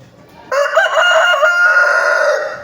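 An Asil Melsim Hatch gamefowl rooster lets out a single loud crow close by, a strident call that rises quickly and holds for about two seconds.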